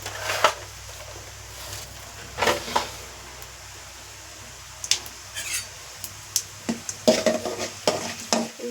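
Mustard seeds, cumin, chana dal and urad dal fry in a pan for a capsicum dish, a faint hiss broken by scattered stirring scrapes and clicks that grow busier toward the end.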